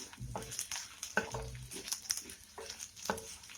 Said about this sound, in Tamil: இதை வந்து ஒரு நாலு நிமிஷத்துக்கு நல்லா ஹை ஃப்ளேமில் வச்சு வதக்கி விடுங்க